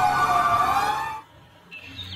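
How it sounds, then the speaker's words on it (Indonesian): A toy fire truck siren wails with steady electronic tones for about a second, cuts off, then a brief higher tone starts near the end. "Ini adalah mobil damkar."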